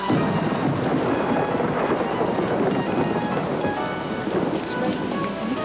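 Heavy rain and rolling thunder from a thunderstorm scene in the movie Armageddon, the Final Challenge, a dense, loud, unbroken downpour with low rumbling throughout.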